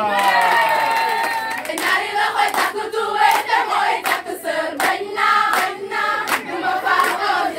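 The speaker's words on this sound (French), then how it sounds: "Sous vos acclamations, Khadija Touba." A school audience cheers and applauds a third-year student debater introduced at a debate on gender parity: loud, steady clapping with sharp individual claps and excited shouts and whoops, sustained throughout at close range.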